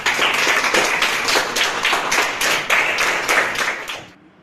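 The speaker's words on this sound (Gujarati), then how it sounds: "તમારા સૌ માટે તાળીઓ થઈ જાય." Audience clapping for students at a coaching class, a group of hands beating in a steady, fairly close rhythm of strong pulses, fading out near the end.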